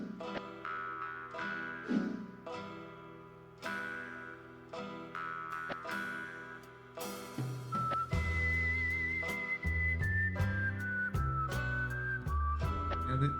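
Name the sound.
whistle in video game Betrayal at Krondor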